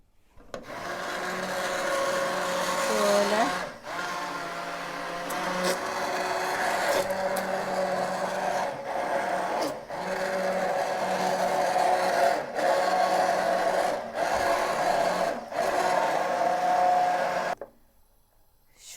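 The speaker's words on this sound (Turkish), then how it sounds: "Ben şimdi mikser kullanacağım." A steady whirring, grinding electric mixer blends soup continuously for most of the clip, with occasional knocks and clatter, then cuts off abruptly near the end.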